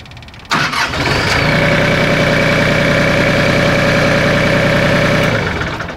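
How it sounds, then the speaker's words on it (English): A diesel LS MT226HE tractor engine cranks and catches, then settles into a steady, loud idle with a rhythmic knocking chug that holds close and constant before easing slightly at the end. "you can fire the tractor up."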